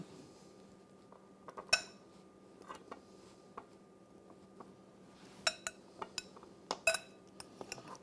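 Blackberries are gently folded into batter in a bowl, heard as quiet, sparse scrapes and light clinks of a utensil against the bowl in a calm room.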